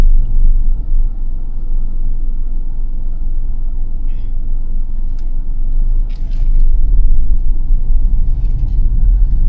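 A car engine pulling away in first gear on a city road, a loud steady low rumble that swells slightly toward the end, with faint traffic noise around it.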